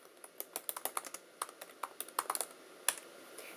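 Quiet, quick keystrokes on a computer keyboard tap out in irregular rapid bursts, with no voices.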